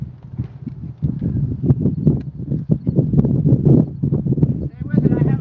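A ridden horse's hooves clip-clop in a steady, close rhythm at a horse rescue, with people talking over the footfalls throughout.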